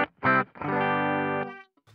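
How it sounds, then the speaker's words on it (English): Clean electric guitar tone through a Deluxe Reverb amp model on a Fractal FM3 MKII: a short picked note, then a sustained chord ringing about a second before fading, with a faint trailing note. "now we have our deluxe reverb clean tone"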